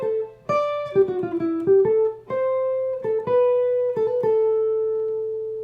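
An embellished melodic solo line rings out on a single instrument, a quick run of short ornamented notes followed by several longer sustained tones that settle on a final note left to decay, played close with no talk.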